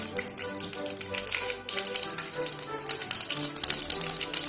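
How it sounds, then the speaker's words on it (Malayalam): Mustard seeds dropped into hot oil for Kerala-style beef ularthiyathu, a continuous close crackling and spluttering with rapid ticking pops throughout, no talk. "1 സ്പൂൺ കടുക്"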